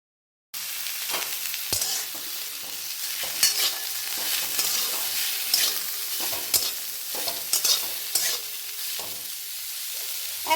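Chopped vegetables for masala Maggi sizzle steadily in a hot pan while a spatula scrapes and stirs in irregular bursts, close and clear with no talking.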